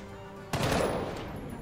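A gunshot in the video game Jagged Alliance 3 strikes about halfway through, one sharp loud report that rings off into a fading tail after quiet background ambience.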